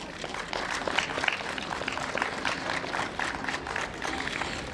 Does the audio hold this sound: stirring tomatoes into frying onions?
no